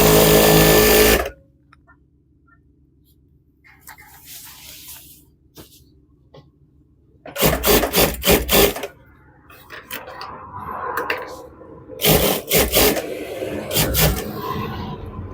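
A sewing machine runs in two short bursts, about a second and a half each, double-stitching the seam of a pant pajama, with a longer burst at the start and quiet handling noise between them.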